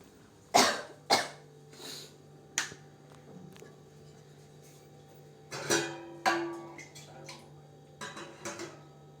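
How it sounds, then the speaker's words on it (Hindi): Someone coughs several times in scattered bursts, with light clinks of dishes or a cup in between. "मुझे बहुत खांसी हो रही है, मैं पानी पी लेती हूँ।"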